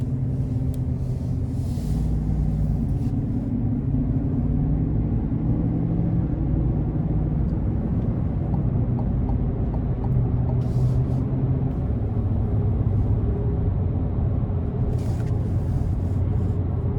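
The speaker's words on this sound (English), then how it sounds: "I'm gonna give it a little pull coming out of this corner in normal" A 2024 GMC Sierra 1500 AT4X pickup accelerating out of a corner in normal drive mode, with a steady low engine and road rumble heard from inside the cab that stays even throughout, with no talk over it.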